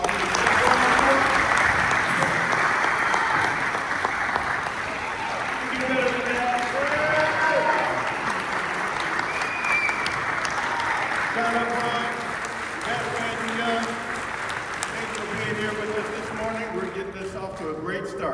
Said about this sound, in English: Can we give these legends a round of applause?